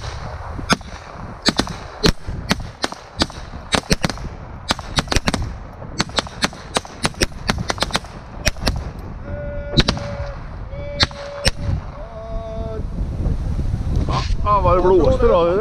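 Gunfire volleys at a gathering of old firearms, with a series of sharp loud shots cracking out outdoors amid wind noise, shouted commands and people talking between the shots.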